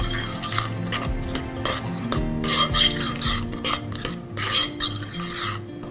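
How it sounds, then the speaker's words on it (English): A spoon scrapes and rasps steadily around a bowl as flour is stirred into a thick keto lemon bar dough, with repeated gritty rubbing strokes and occasional light clinks against the bowl, close up and without talk. "You just want to stir it in until it forms a nice and thick dough"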